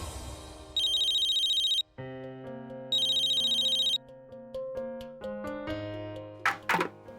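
A mobile phone ringtone plays in two loud electronic bursts over a background music score in a domestic drama scene, with no talk during the ringing.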